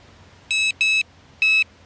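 An MF 213C fishing bite alarm, just pulled out of icy water, gives three clear electronic beeps, two close together and a third after a short pause, loud and alone over faint background hiss.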